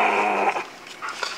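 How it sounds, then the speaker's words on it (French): A dog growls low and steadily inside or beside a car at Pas de la Casa, close and fairly loud, breaking into a few brief whimpering yips toward the end, with no talking. "Oh, arrête le chien."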